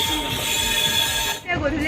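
A passenger train rolls along the rails with a steady rumble and high wheel squeal, loud and continuous, dipping briefly near the end before resuming.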